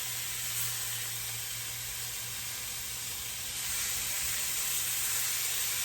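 A steak searing in a hot pan gives a steady, even hiss and sizzle with a low hum underneath, close and constant, with no talking.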